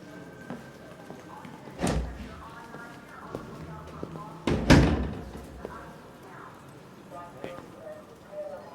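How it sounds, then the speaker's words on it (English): In Detroit: Become Human, a door shuts with a solid thump, followed by a second heavier thud, under ongoing character dialogue and faint background ambience. "Close the door on your way out."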